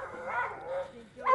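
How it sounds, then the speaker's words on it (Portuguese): A dog whimpers and yips softly, with a short rising whine near the end, close by and alone. "Agora eu tô me despedindo da minha cadela Frida."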